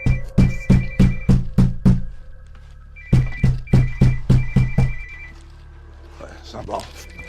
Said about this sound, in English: his phone starts ringing over and over